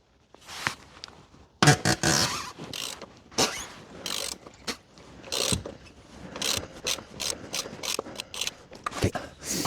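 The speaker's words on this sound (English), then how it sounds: "I'm going to undo the oil filter now while that's draining. It's got a long-ish extension on the ratchet here" A ratchet on a long extension undoing the oil filter of a VW Caddy 2.0 TDI, with rapid bursts of close, crisp clicking separated by short pauses.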